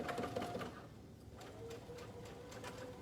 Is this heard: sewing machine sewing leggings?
yes